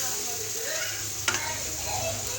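Koi fish curry masala sautés in oil with a soft, even background sizzle, slow stirring and one sharp spatula tap partway through.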